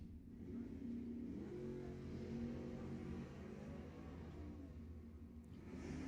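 Drag racing cars at the line at Lebanon Valley Dragway, an orange Chevy Nova facing a Ford Mustang, with engines rumbling and revving steadily at a moderate distance and no voices.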